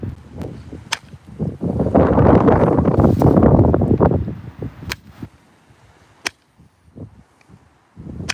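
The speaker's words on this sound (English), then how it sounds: "Hear that wind?" Wind blowing outdoors during flint knapping of chert, a loud gusty rush swelling for a few seconds and then fading, followed by sharp scattered clicks and taps.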